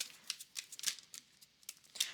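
Tarot cards shuffled by hand, heard as faint, close papery slaps and flicks arriving in quick irregular bursts with short gaps, nothing else around them.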